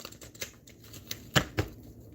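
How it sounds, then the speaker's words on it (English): Light papery riffles and taps of cards being shuffled nearby, several quick soft clicks with two sharper snaps near the end, no voices. "Let's shuffle these cards and see what come out."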